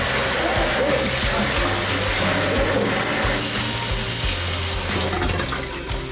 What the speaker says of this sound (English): Let's give her a test so we can test the faucet